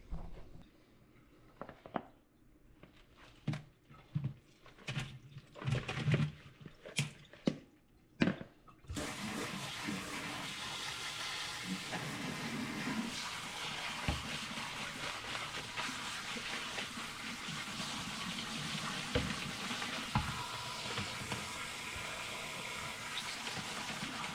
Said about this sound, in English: We're going to get that colander and we're going to rinse them out really good.